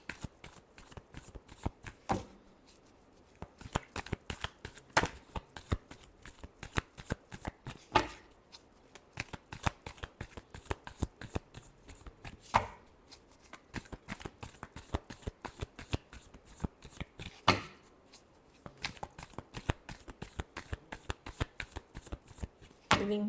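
Tarot cards being shuffled by hand, with crisp, close riffling and sliding bursts repeated in quick rhythmic runs, punctuated by sharper taps as the deck is squared.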